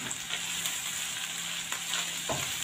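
Shawarma meat with spices fries and is stirred in a pan, giving a steady close sizzle broken by a few scraping stirs, with no talking.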